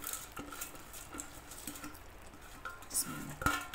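Washed rice is tipped into a pot and stirred while making koshari. Soft, scattered clinks and scrapes of a utensil against the pot come through quietly over low background noise.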